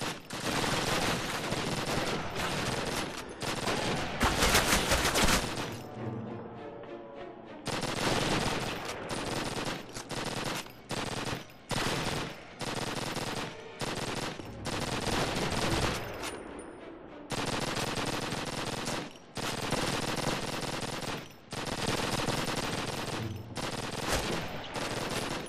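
Sustained, loud machine-gun fire in the Call of Duty Classic train station level on Veteran difficulty roars almost continuously, broken by a few brief lulls, with no voices.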